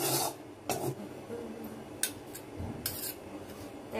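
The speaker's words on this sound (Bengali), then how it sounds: "এই যে লাল লাল গুলো চেঁচে চেঁচে দিচ্ছি না, এইটারই স্বাদ দুর্দান্ত।" Browned red bits of a chicken stew being scraped from a cooking pot: several close, gritty metallic scrapes and rubs with soft pauses between them, no talking.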